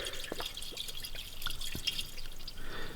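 AT-205 Re-Seal oil leak stopper poured from its bottle into a car engine's oil fill, a thin steady trickle with faint dripping splashes, close and quiet, no voices.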